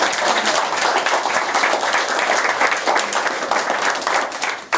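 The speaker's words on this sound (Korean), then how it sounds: "박수 부탁드립니다." An audience at a lecture applauds steadily, dense clapping filling the whole stretch at a consistent loud level, with a slight dip near the end.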